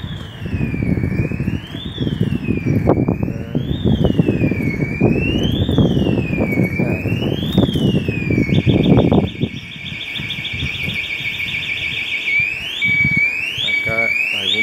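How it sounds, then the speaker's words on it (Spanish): A shop's security alarm goes off on a city street in Santa Fe, heard while passing by bicycle: a loud, repeating rising-and-falling wail over traffic rumble that switches to a faster warbling tone near the end. "Acá algún pajarito activó la alarma."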